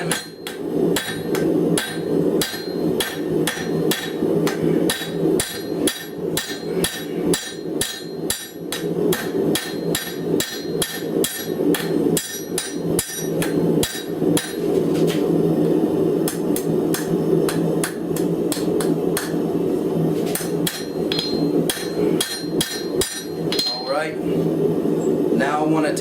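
A blacksmith strikes hot steel with a hammer on an anvil, shaping a leaf for a rose sculpture. Rapid ringing metallic blows land in steady bursts with brief pauses, loud and close throughout.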